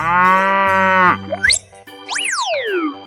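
A cow in a 3D animal sliding game gives one long, loud, steady moo, followed by springy boing effects and swooping cartoon tones.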